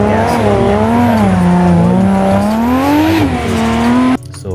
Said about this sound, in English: So that is power sliding, by the way.